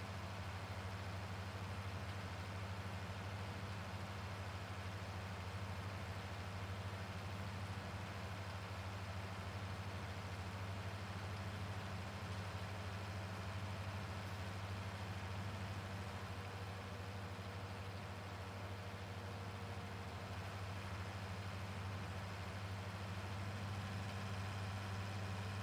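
A tractor engine idling in Farming Simulator 19, a steady low drone with a constant hum that continues unchanged throughout, no speech.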